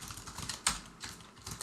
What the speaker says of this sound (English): that's enough typing here in this file